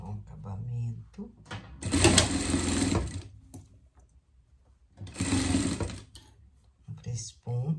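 Sewing machine stitching a finishing seam on a pet outfit, running in two loud bursts of about a second each with quieter gaps and talk between them.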